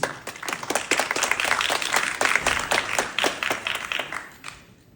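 Scattered applause from the audience at a Baltimore County Executive Democratic primary forum, with distinct individual claps audible within the crowd, building then thinning out and fading by the end.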